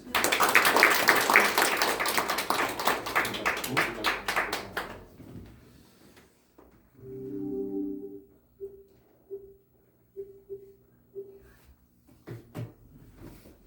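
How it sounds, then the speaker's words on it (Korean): An audience at a church gathering reporting on North Korea missions claps to welcome a speaker, several seconds of brisk, fairly close applause that thins out, followed by a hum and a few scattered taps. "박수로 환영하겠습니다"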